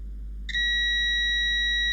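A multimeter's continuity tester gives a sudden, steady, high-pitched beep that holds unbroken for over a second while probing a shorted Xbox One model 1540 board, over a faint low hum.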